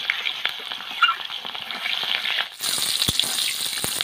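Onions fry in oil with whole cumin seeds, a bright steady sizzle with spatula scrapes and stirring clicks, the hiss surging louder partway through; no one speaks.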